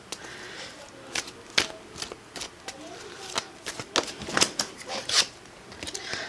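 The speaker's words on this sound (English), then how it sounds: "I was just shuffling and playing with the cards here" Tarot cards being shuffled by hand, with a run of quick, close riffling snaps and soft slaps at an uneven rhythm, while a person talks softly in the background.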